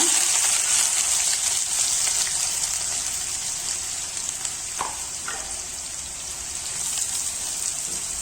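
Onions fry in hot oil with green chillies for a mushroom gravy, giving a steady loud sizzling hiss that fills the whole stretch, with one or two brief spatters or clinks midway and no talking.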